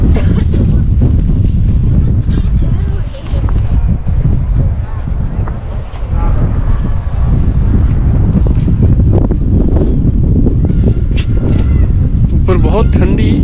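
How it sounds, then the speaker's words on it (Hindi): Cold wind blusters loudly across a microphone on top of an open observation tower over forest, a constant heavy rumble and buffeting with brief lulls, with voices faintly underneath. "ठंडी हवा चल रही है"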